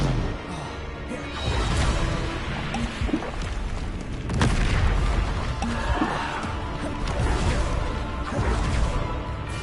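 Bombarda explosion spells cast repeatedly in Hogwarts Legacy, a dense, loud stream of booming blasts and whooshes layered with continuous game effects and combat clatter.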